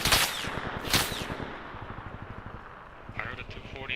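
M240 and M249 machine guns firing in a video game: two heavy close blasts open the clip, then a steady stream of quieter distant automatic rounds, with another voice talking faintly near the end.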